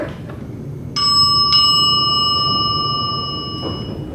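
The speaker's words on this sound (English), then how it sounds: "Wait, it's a sound effect. It's not even an actual mechanical bell." A bright electronic bell chime from an Otis traction elevator rings twice in quick succession, the tone lingering and slowly fading over a quiet background.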